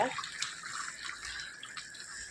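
Ground coconut paste is poured into a cooking pot for a crab gravy, giving a soft, wet pouring and splashing sound at moderate distance with faint background noise and no clear talk.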